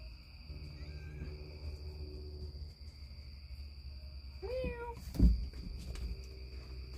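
A cat meows once in a short, rising and falling cry partway through, close by over a steady background hum, followed by a thump and faint rustling.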